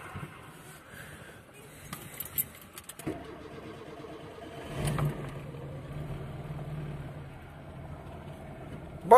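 A ZAZ Slavuta car engine cranks and catches after an oil change, the starter whir giving way to a low steady idle. It is recorded up close but quietly, with brief clatter beforehand and no talk over it.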